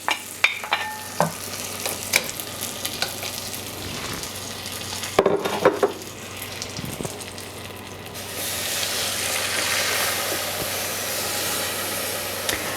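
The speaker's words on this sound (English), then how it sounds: "once you have it in the pot, you just keep stirring it" Caramel sauce being stirred in a heavy-bottomed pot over medium heat: close, irregular scraping strokes at first, then a steady bubbling sizzle from the cooking sugar fills the second half.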